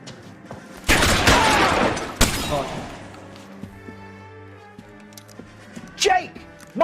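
Suppressing gunfire, a dense loud burst of rapid shots followed by another short volley, then quieter scattered sounds and distant shouting voices.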